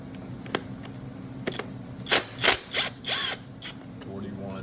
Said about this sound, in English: I think 5/16 socket fits these bolts on this oil pump.